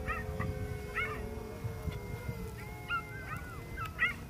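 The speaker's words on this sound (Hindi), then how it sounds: "कुत्ते बहुत ज़ोर से रो रहे हैं" Dogs howling and whimpering at night, rising wails and yips from more than one animal at middle distance over low background noise, with no voices.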